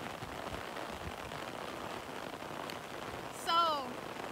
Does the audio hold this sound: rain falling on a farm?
yes